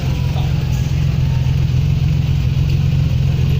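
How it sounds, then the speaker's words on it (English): A BMW 635 CSI exhaust idling close by, a steady, loud low rumble with an even pulsing throb. "Listen to the exhaust."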